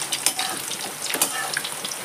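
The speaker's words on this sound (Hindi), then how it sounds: "अब इसको हम पलटा देते हैं दूसरी तरफ से भी, इसे हम अच्छे से फ्राई कर लेंगे।" Poha pieces fry in a pan over medium heat, giving a steady, crackling sizzle with small pops and a few soft stirring or turning noises.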